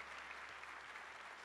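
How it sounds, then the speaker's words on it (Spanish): Faint, steady applause from an audience fills the space after a young student sings at a children's singing workshop, a continuous wash of clapping with no distinct individual claps and no speech. "Fuerte los aplausos"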